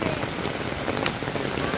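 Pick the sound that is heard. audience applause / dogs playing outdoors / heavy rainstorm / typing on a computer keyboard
heavy rainstorm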